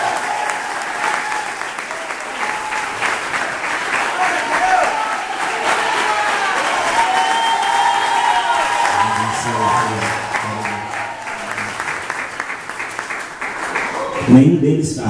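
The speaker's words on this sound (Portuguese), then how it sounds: "Vamos aplaudir." A church congregation applauds during a workers' anointing service, with sustained clapping lasting the whole stretch and voices calling out over it.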